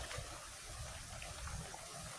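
The Calinawan River in Tanay, Rizal flows with a faint, even, continuous rush and trickle that stays steady throughout, with no voices.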